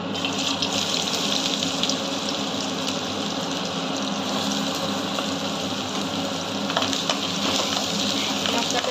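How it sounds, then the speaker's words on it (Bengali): Chopped onion frying in mustard oil gives off a steady, dense sizzle with fine crackle, close and fairly loud, continuous throughout with no talking. "একটু হালকা লাল লাল করে ভেজে নেবো"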